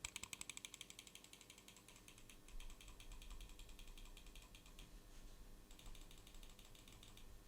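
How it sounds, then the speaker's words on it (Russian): A computer mouse clicks rapidly and evenly, close to a Fifine AM8 microphone at fist distance with gain turned fully up, then gives way to a faint hiss of room noise. "Кликаю мышкой."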